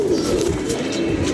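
A domestic pigeon coos close by, a continuous low, throaty rolling call that fills the short moment with no talking over it.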